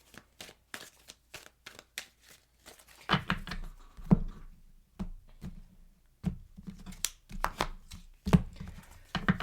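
Quick, crisp flicks and riffles of tarot cards being shuffled close up, coming in irregular bursts with short pauses between them.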